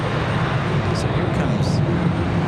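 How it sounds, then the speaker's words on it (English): A Boeing 757 arriving from Philadelphia at Raleigh-Durham International Airport, likely a sports charter, gives a steady broadband jet roar that holds evenly throughout, with no distinct breaks. "comes our 757 from Philadelphia."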